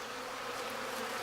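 Bees buzz in a steady, dense drone at an apiary being tended in a rural countryside setting, a continuous close hum with no gaps and no voices.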